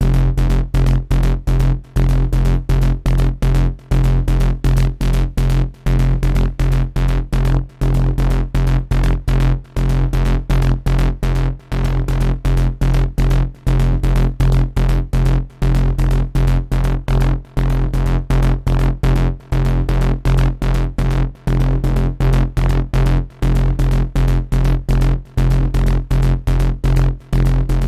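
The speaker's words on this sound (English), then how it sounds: "all these 4 sounds actually came from my Loom bass preset pack." Synth bass from the Loom bass preset pack pulses in a fast, regular rhythm of short, evenly spaced notes over a deep, heavy low end, loud and continuous with no voices.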